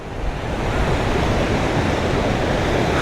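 Ocean waves and surf roar at an island off Taiwan, a loud, dense wash of water and wind that builds at the start and then holds steady, with no voices.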